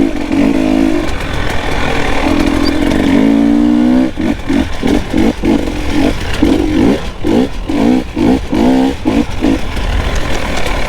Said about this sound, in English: Hit that throttle, that front wheel will pick up.